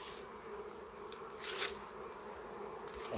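A swarm of honey bees hums steadily around hives being harvested for honey in a Jambi village, a constant close buzzing drone with a brief louder flare near the middle and no voices.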